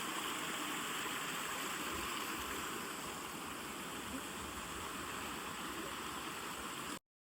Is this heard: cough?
no